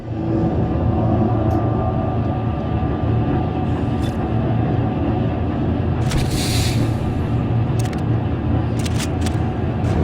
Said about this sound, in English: as the tram gets called over